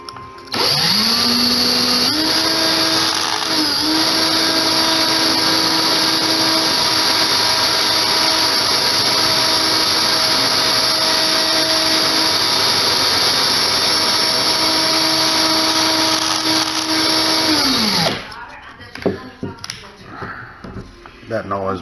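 A high-speed rotary tool sanding a screw whines steadily for most of the clip, holding a constant pitch, then spins down and stops, leaving quieter handling noises.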